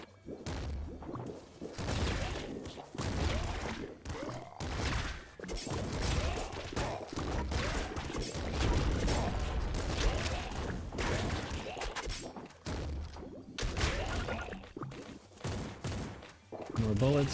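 Rapid gunfire and explosive blasts from the video game Nuclear Throne, including a flak cannon, pound in dense bursts with whooshes and crashes, loud and nearly continuous, mixed with game sound effects.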